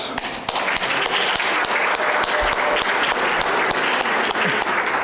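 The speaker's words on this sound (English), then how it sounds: "So let's give them a round of applause." Steady, dense applause from an audience at an awards ceremony fills the whole stretch, loud and continuous with sharp individual claps throughout.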